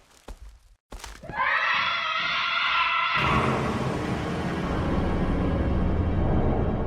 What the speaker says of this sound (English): We just heard someone scream and this music starts to play.